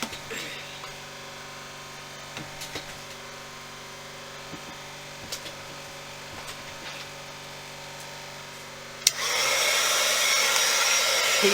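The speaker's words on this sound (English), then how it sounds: "Keep my heat gun up off camera." A heat gun starts blowing near the end, a loud steady broadband rush of hot air switching on abruptly after a quiet room hum during work on a book box made from packaging.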